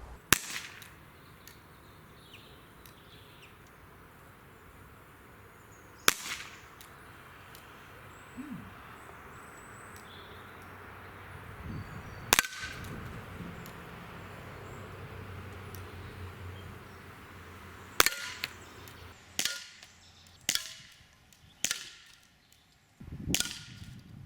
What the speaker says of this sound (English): this Walther CP88 is one of my favourite CO2 pistols